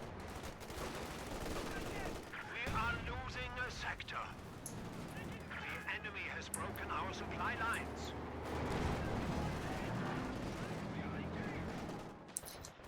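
Browning machine gun fire in a competitive World War II video game match, sounding as dense rattling bursts and booms under continuous caster-style talk over a busy battle soundscape.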